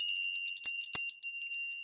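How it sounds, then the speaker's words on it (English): Little bells used as a shamanic healing tool ring in a quick series of bright, high tinkling strikes with shimmering sustained tones, close and clear with no talking. "So here are the little bells."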